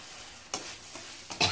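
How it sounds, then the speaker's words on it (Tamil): Mutton is sautéed with masala in a pan: a couple of short stirring scrapes and clatters over a quiet background sizzle. "ஸோ இப்போ நான் மசாலா ஆட் பண்ணி ஒரு 2 மினிட்ஸ் வதக்கிறேன்"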